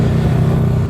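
A Yamaha R15 V3 motorcycle fitted with a Daytona Evolution exhaust, popping at low RPM off the throttle, gives a loud, close, rapid burbling crackle in a brief burst.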